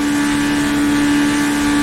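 A 1960s formula race car engine in the racing sim rFactor2 drones loudly and steadily at a constant pitch, a sustained engine tone with no talk.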